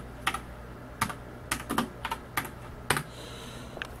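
Keystrokes on a computer keyboard while entering a command in a Linux terminal on a Ryzen 3 desktop PC, heard as a few sparse, close taps and short bursts spread over a quiet background hum.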